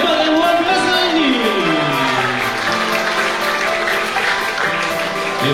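Audience applause at a junior high school graduation thanksgiving ceremony in Jambi, a steady broad clatter of clapping that runs through the whole stretch with a tonal musical background underneath and no clear speech.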